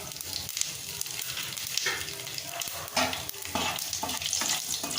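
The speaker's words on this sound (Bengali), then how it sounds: "একই তেলে আমি একটা তেজপাতা মাঝখান থেকে কেটে ফোড়ন দেব, আর 1/4 টিস্পুন জিরে দেব ফোড়ন।" A split bay leaf and cumin seeds tempering in hot oil left from frying rohu fish, a crackling sizzle with repeated stirring scrapes, close and fairly loud with no talking.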